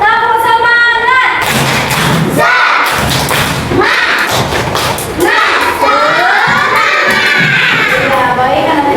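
Second-grade schoolchildren in a classroom do a loud rhythmic clapping cheer, bursts of claps and thumps mixed with their shouting voices, close and energetic throughout.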